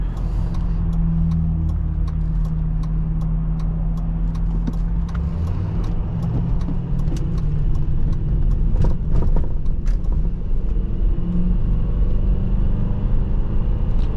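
A deep, rumbling V8 engine of a 2002 Ford Thunderbird at a steady cruise, low and throaty, with occasional clicks and road noise and no talking.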